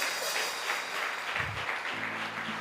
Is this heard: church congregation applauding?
yes